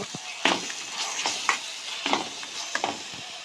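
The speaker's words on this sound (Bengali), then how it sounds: "দিয়ে দেবো সানরাইজের জিরা পাউডার দিয়ে ভালো করে আমরা এটাকে একটু কষিয়ে নেব" Masala with coriander and Sunrise cumin powder is stir-fried in hot oil, giving a close sizzle with rhythmic scraping stirs about every half second, with no talk.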